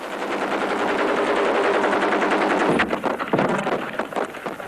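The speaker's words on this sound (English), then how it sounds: "The South Africans retaliate with every weapon in the arsenal." South African forces fire weapons in retaliation: a sustained, loud roar of gunfire, sharpening into separate cracks and bursts toward the end.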